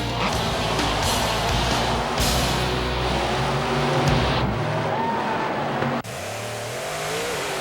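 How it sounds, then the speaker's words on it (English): Monster trucks race, engines roaring loudly and continuously with revving surges and shifting pitch, close and dense throughout. "Monster trucks. Don't think for a minute this isn't real racing,"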